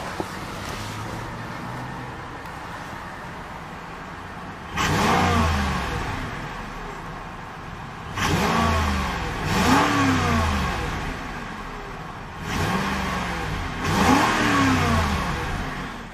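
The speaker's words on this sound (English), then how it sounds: "Very potent yet burly V8 sound." A 2011 Cadillac DTS hearse V8 idles steadily, then blips through several sharp revs in a row, each rising and falling back to a burbling idle, close and alone with no talk.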